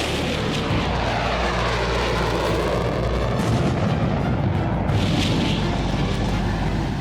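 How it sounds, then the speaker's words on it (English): Military jet aircraft practising steep-angle dive bombing runs on a small target, heard as a loud, continuous roar of engines with rumbling, booming low end that swells and fades slightly across the stretch, with no talking. "They practice steep-angle dive bombing runs on a tiny target."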